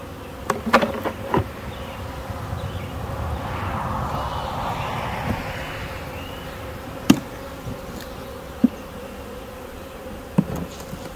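A honey bee swarm drones around a hive in a steady, close buzzing hum, broken by a few sharp knocks and taps of hive equipment.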